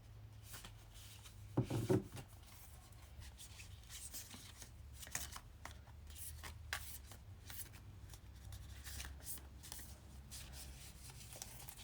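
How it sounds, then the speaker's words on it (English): A deck of tarot cards is shuffled steadily and up close, a soft papery riffling and rubbing that keeps going for several seconds, with a brief thump near the start and no voices. "These cards are so awkward for me to shuffle"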